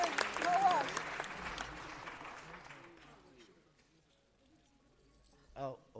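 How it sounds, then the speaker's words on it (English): Audience applause at a city council meeting honoring Blacks in Cinema Day, loud clapping that fades away over several seconds, with a voice speaking briefly near the end. "So one more round of applause"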